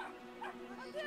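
A little dog in the video game Brothers: A Tale of Two Sons gives a few short, sharp yips and barks close up, quick and uneven, with a faint whimpering edge.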